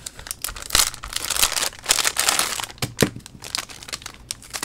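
Plastic packaging around a microphone mount crinkles and crackles in bursts as it is pulled open by hand, close and fairly loud with irregular rustling pauses.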